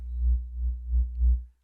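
A Workshop System modular synthesizer plays a deep, low electronic tone that swells and fades in four slow, even pulses before cutting off into silence.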